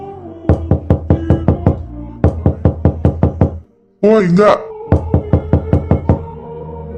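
Someone knocks on a bedroom door in quick, loud runs of raps, three bursts in all, with a voice calling out briefly in the pause between them.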